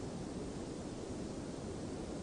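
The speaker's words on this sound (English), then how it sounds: "The shell-shaped fountain is fed by an ever-flowing water source." Water flows steadily in a shell-shaped garden fountain fed by an ever-flowing source from an ancient reservoir, making a soft, continuous rushing wash with no breaks.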